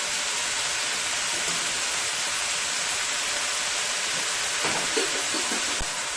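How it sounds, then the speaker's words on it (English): White belly shrimp cook in a hot pan, producing a dense, even, close-up hiss of frying that holds steady throughout, with a few faint clicks near the end. "So I'm gonna let my shrimp cook for a little bit here."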